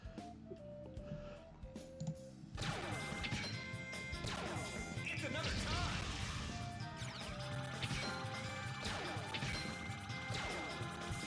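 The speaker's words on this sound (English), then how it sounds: "You summoned the moon to crash onto Earth." A video game's Crashing Moon attack, with the moon smashing onto Earth, opens with a few faint tones, then erupts into a loud, sustained wall of crashing and shattering impacts with ringing debris that lasts several seconds.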